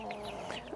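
Chickens cluck softly in a sunny coop area near a nesting box, a few short calls over a steady background.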